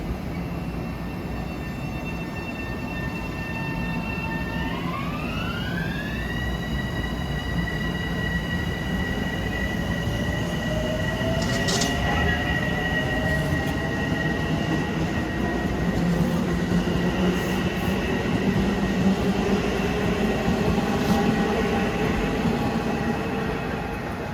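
An LIRR electric train starts up at Forest Hills station, its traction motors whining in rising tones that climb and then hold steady over a continuous rumble, with faint squeals and crackles from one car sparking along the rail.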